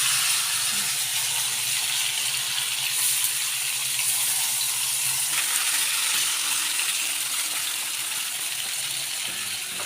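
Tilapia half-frying in shallow oil in a home kitchen, a steady bright hiss and crackle that runs evenly throughout, fairly close and unbroken, with no voices over it.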